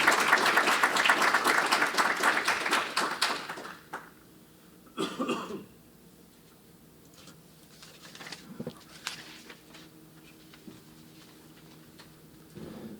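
An audience applauds the introduction of a speaker at a lecture on poverty, ethics and artificial intelligence: brisk clapping for about four seconds, then it dies away into scattered coughs and throat clearing in a quiet hall.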